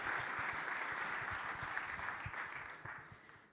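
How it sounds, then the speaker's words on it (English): Audience applause at a hackathon closing ceremony in London, a dense, even roar of many hands clapping that holds steady and then fades slightly toward the end, heard from within the crowd. "you already started clapping"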